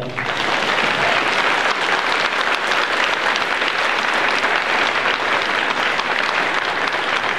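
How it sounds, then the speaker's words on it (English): An audience at a senior celebration gives students a round of applause, loud and sustained clapping from many hands filling the room evenly from start to finish. "please give these students a round of applause"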